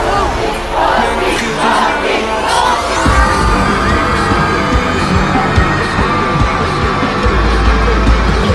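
A large festival crowd at a show at Lollapalooza 2018 cheers, yells and whoops over booming music, loud and continuous with shouts rising near the microphone.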